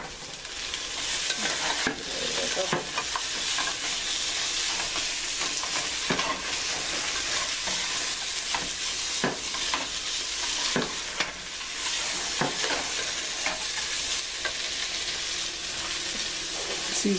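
Sausages sizzling steadily in a pan for a stew, a continuous loud frying hiss with occasional sharp crackles and stirring scrapes throughout, no voices.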